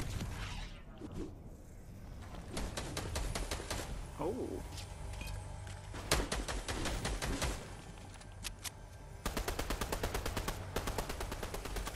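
Rapid bursts of Fortnite gunfire crackle in repeated volleys through most of the stretch, loud and close, with game sounds between and a voice talking underneath.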